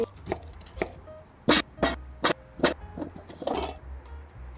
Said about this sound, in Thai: เราก็เอามันมาปอกเปลือกล้างน้ำให้สะอาดหั่นให้เป็นชิ้น